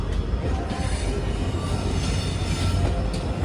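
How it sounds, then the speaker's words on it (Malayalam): A train arriving at Siliguri Town railway station rumbles steadily close by, heavy low rolling noise with faint wheel squeal, no voices. "ടൗൺ റെയിൽവേ സ്റ്റേഷനിലേക്ക് ഇതാ ട്രെയിൻ എത്തുകയാണ്"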